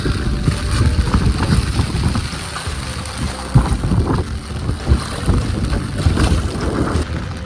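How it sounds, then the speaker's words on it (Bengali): Strong gusty wind roars and buffets the microphone throughout, with low rumbling surges rising and falling continuously. "আজকে বাতাসটা কিন্তু ভালোই দিচ্ছে।"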